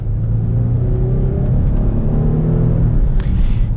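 The 3.6 liter V6 of a 2020 Jeep Grand Cherokee Trailhawk pulls under acceleration with a loud, deep droning rumble whose engine tone rises steadily, heard from inside the cabin.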